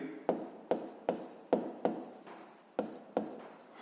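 Pen writing an answer by hand on paper, a quick series of about eight short scratchy strokes in an uneven rhythm, close and quiet, with no talking.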